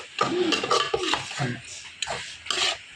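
Spices and onions being mixed and sautéed in a pan for a pork roast, short bursts of metal spoon scraping and clinking against the pan in quick strokes.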